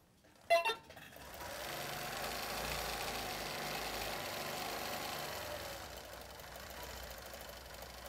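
A sewing machine stitching a C curl quilt border design runs in a steady, continuous mechanical hum after a brief sharp start, holding at moderate loudness throughout with no talk.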